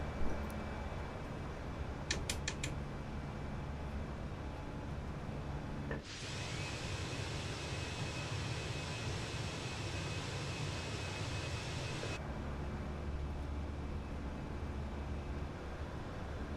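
Airliner taking off in Microsoft Flight Simulator 2020, a Spring Airlines flight out of Shanghai: a steady engine roar holds, then swells suddenly into a loud broad jet rush for about six seconds before easing back to a lower drone.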